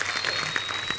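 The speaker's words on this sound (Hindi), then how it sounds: "जोरदार तालियां सुखबीर पाजी और बादशाह पाजी के लिए।" A studio audience at a comedy talk show claps loudly for arriving guests, a dense, steady wash of applause throughout.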